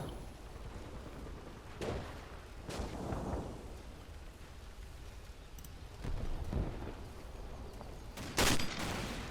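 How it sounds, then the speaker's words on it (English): Gunfire in a Combat Mission Black Sea war game as a grenadier fires an M25 with 25mm HEDP rounds; several dull distant booms and blasts sound over a constant rumbling battlefield background. "this is the Grenadier with the M25 firing the tiny little 25mm HEDP rounds"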